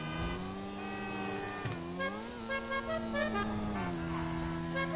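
Car horn in GTA Online sounding in long sustained honks with shifting pitch, loud and close over a steady engine drone, with no voices.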